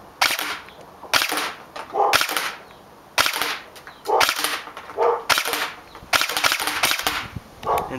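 An airsoft AEG rifle fires in two-round burst mode: loud, close, sharp cracks in quick pairs, with brief pauses between bursts, repeated about eight times.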